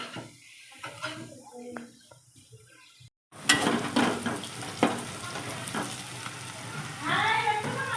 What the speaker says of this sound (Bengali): তরকারি বসাই দিতেছি পেঁয়াজ কাঁচামরিচ ভাজিয়ে নিলাম